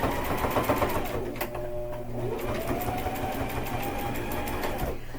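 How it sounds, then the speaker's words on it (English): A basic Walmart sewing machine runs steadily through a straight stitch, its rapid needle clatter continuous and close for the whole stretch. "My sewing machine is a basic. It's just one from Walmart."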